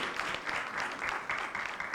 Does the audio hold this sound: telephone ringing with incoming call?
no